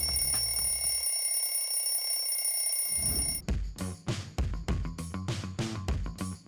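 A Pomodoro timer alarm rings loudly, a steady electronic tone that gives way to rapid, repeated bell-like beeps pulsing close and insistent.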